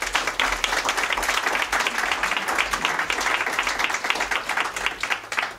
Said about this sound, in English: Please can you give my ladies a round of applause?